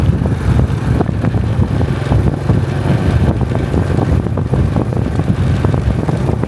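Strong wind buffets the microphone on the bank of the Mekong River in Laos, a loud, continuous roaring rumble with no voices.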